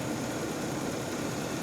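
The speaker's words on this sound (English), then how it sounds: "Engine sounds good though." A 350 engine with a known balance shaft issue idles steadily in a car, its low, even hum holding constant with no one talking.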